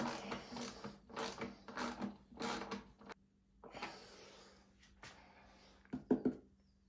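Spanners and bolts click and ratchet in short rhythmic bursts as a side panel is bolted onto an Aprilia RS125 SP Sports Production bike, followed by a pause and a few sharper metallic clunks.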